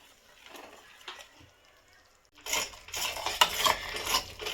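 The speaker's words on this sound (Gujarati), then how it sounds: "એમાં મેં જે એક વાટકી ઘઉંનો લોટ લીધો હતો એ જ હું આની અંદર નાખી દઈશ અને પછી આને હું આવી રીતે શેકીશ" Wheat flour roasting in hot ghee over a medium flame, with loud, close clinking and scraping of a utensil against the pan that starts partway through. The stirring scrapes come as rapid, irregular strokes with a soft sizzle underneath.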